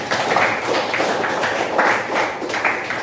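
Students clap together in a school session, a dense, steady patter of many hands with rising and falling swells, fairly close and with no talk over it.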